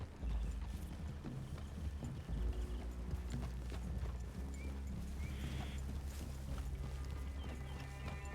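Horse hooves clip-clopping in the Red Dead Redemption 2 video game, a steady close rhythm of hoof falls with an occasional whinny over low rumbling ambience and a faint hum throughout.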